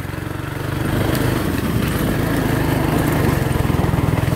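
Small go-kart engine labouring uphill through woods, a close, loud, buzzing single-cylinder drone with a steady rapid pulse that holds throughout.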